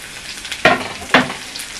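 Chopped onion fries with garlic in a pan, a soft sizzle in the background broken by two sharp scraping stir strokes, with no voices.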